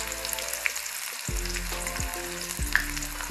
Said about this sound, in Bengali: তেলটা গরম হয়ে গিয়েছে। এবার আমি এর মধ্যে দিয়ে দিচ্ছি পেঁয়াজ কুচি।